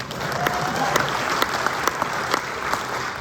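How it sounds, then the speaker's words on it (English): A crowd applauds at a Long Island hall of fame induction for a track and cross-country runner, steady continuous clapping with a few sharper individual claps standing out at an even level. "Applause."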